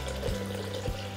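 Water runs into a Thermomix mixing bowl for a pasta salad dressing, a brief steady pouring sound broken by two short knocks or gurgles. No voices are heard.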